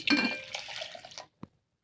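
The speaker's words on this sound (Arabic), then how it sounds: "انا عندي هنا باكو من جيلي الفراولة، احط عليه كوب مية سخنة" Hot water poured from a cup onto a packet of strawberry jelly powder, a close liquid splash and trickle lasting about a second, then a single faint clink after a pause.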